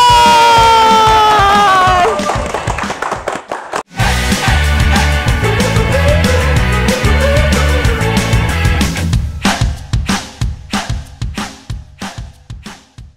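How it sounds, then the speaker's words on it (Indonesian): At an Indonesian small-business digital promotion event, a loud crowd cheers and claps over a bright musical stinger, then the music breaks into rhythmic accented hits as the cheering fades under sharp repeated beats. "Tepuk tangan sekali lagi buat UTEPOS!"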